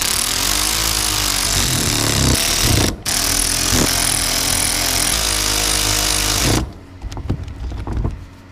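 A power tool runs in steady bursts, snugging aluminum-housing bolts in a cross pattern on a Kubota L48 hydraulic swing pump, loud and close, with a short pause before the final burst and quieter clanks afterward.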